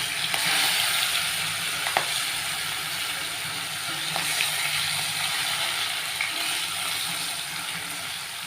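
Fish lightly fries in a pan with a steady, close sizzle, broken now and then by faint clinks and stirring.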